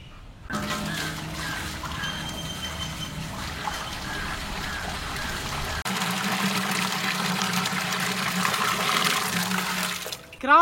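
Water poured into a cooking pot over a village fire while making a mutton and jackfruit gravy, a steady splashing rush that grows louder and fuller midway before stopping abruptly.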